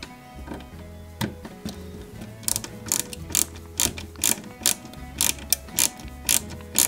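Screwdriver driving small screws into a Peugeot 205 GTI 1.9 scale model kit part, giving a near, rapid series of ratcheting clicks in bursts, growing more regular toward the end over faint background hum.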